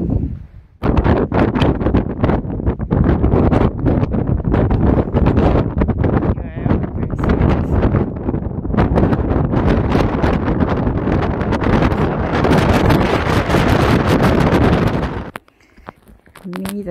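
Strong wind buffets the microphone almost continuously on an outdoor hike along a gravel road, a loud, rough roar that drops away briefly near the end.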